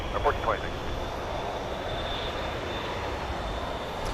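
Southwest Airlines plane on the runway at Dallas Love Field, a steady distant engine roar with a faint high whine, while someone talks over it at the start.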